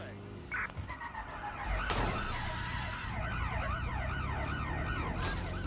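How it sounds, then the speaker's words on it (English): An ambulance siren in the video game Watch Dogs: Legion wails in rising and falling sweeps, loud and close over rumbling vehicle noise, with a sharp crash partway through. "They're tracking the ambulance."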